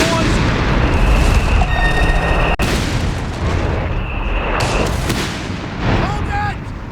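Pack howitzer artillery fire in Company of Heroes 3, heavy booms and blasts over a dense, continuous battlefield din with scattered gunfire, loud and close throughout.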